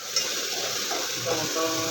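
Loud, steady sizzling and crackling of a tempering for misal hitting hot oil, a dense hiss that fills the short moment without letting up.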